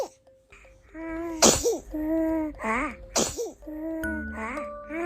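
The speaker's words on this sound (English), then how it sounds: "A new friendship starts with a gentle sniff and a tiny sneeze." A dog gives two tiny, sharp sneezes a couple of seconds apart, quick breathy bursts set against soft background music.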